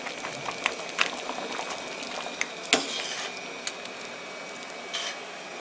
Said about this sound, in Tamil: இன்னும் கொஞ்சம் கொதிக்கிட்டோம், கொதிக்குது